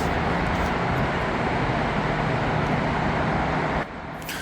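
Steady roar of downtown Dubai city traffic, a dense continuous wash of car and road noise that holds loud and even before dropping slightly near the end, with no voices.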